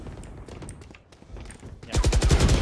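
Rapid automatic spray fire from a Vandal rifle in a Valorant custom match, a dense loud burst of evenly spaced shots in the final second after quieter clicks and faint in-game sounds.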